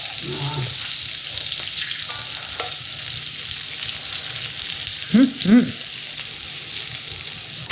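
Onions caramelizing in a Staub cast iron skillet sizzle steadily and fairly loudly, with occasional stirring scrapes and a few brief faint vocal sounds over the frying.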